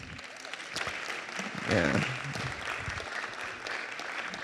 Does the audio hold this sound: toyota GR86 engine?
no